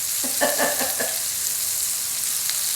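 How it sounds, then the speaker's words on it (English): Steaks sear in a hot pan with a constant, even hiss of sizzling fat, close and fairly loud, with no talking. "my steaks are searing"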